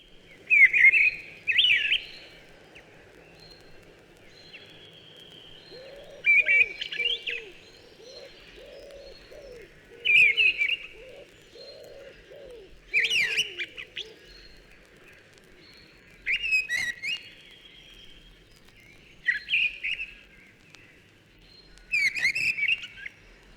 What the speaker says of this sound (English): The full song of the mistle thrush is a wild one, coming down from the canopy of some tall elm or plane tree